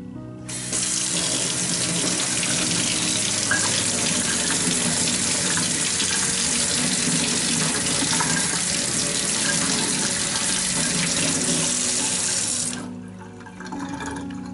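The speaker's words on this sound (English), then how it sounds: "Rinse the filter under cold water for 15 seconds" A cold water tap runs steadily over a Brita pitcher filter cartridge as it is rinsed, a continuous close splashing rush lasting about twelve seconds, then stopping.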